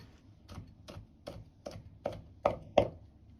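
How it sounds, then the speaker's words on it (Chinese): A knife chops chili peppers on a cutting board, seven crisp close strikes in a steady rhythm that grow louder toward the end, with quiet gaps between them. "最後改刀切碎。"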